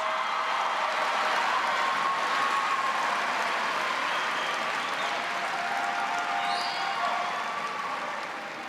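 Graduation audience at a high school commencement giving a graduating student a sustained round of applause, broad even clapping from a large crowd that fades slightly at the end.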